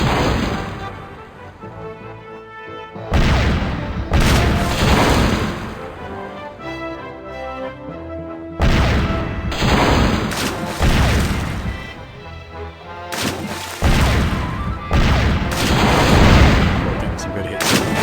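Repeated heavy cannon blasts in The Curse of Monkey Island video game: loud booming shots land every few seconds with crashing impacts and rumbling decay, over a steady game soundtrack, with no speech.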